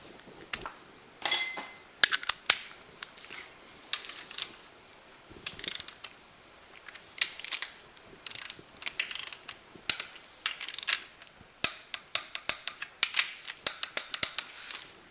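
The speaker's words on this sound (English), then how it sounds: "get that set to 50 and torque both of them" Torque wrench tightening connecting rod bolts on a Cummins 12-valve 5.9L diesel engine during a rebuild, with repeated quick ratcheting clicks in short bursts separated by pauses, close up and crisp, no talking.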